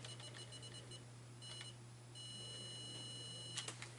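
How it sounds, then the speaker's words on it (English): Several short electronic beeps chirp in quick succession from a Lenovo all-in-one PC at boot, then a longer steady tone, with faint clicks near the end; quiet and close. "Oh, it beeps."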